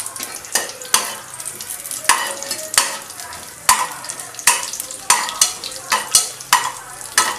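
Whole spices (cinnamon, cloves, cardamom, cumin and fennel) sizzle loudly in hot oil in a pan, with repeated sharp scraping strokes of a spoon stirring them at a steady rhythm, close up and with no talking.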